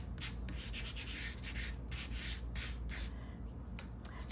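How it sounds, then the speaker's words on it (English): Sandpaper rubbed across a stenciled magazine page for a journal, making steady, repeated scratchy strokes close up with no voices. "the block or the sandpaper, you can always get cool results"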